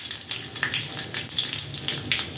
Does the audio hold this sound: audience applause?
no